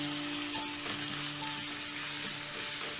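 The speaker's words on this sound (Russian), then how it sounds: "На разогретое масло выкладываю нарезанные заранее морковь и лук." Chopped carrots and onions fry in hot vegetable oil in a pan with a steady, even sizzle, fairly quiet and close, with no talking.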